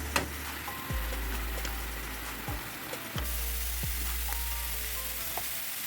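Garlic, a green chili and chili flakes sizzle loudly with mushrooms in a pan for garlic butter mushrooms, a steady close frying hiss broken by a few soft scraping stirs.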